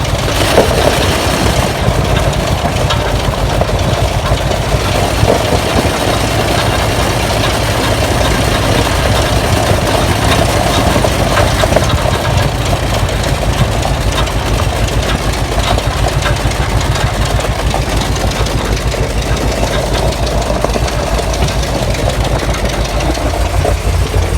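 Ford 460 V8 engine running under load, heard as a loud, continuous low rumble with steady vibration and no clear breaks or voices.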